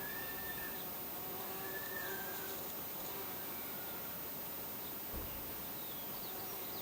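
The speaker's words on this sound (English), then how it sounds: "there's a lot of bees on this" Bees hum softly around a blue-flowering ceanothus shrub in a garden, a faint, continuous buzzing within a steady outdoor hiss, with no voices.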